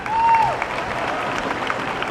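An audience at a dog show claps together in a dense, sustained round of applause that lasts throughout, with a crowd murmur and a brief voice near the start.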